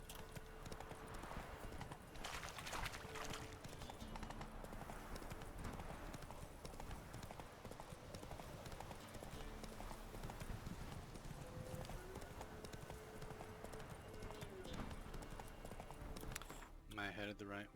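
Hooves of Roach, Geralt's horse in The Witcher 3: Wild Hunt, clip-clopping at a steady walking rhythm, moderately faint under game music, ambience and spoken dialogue.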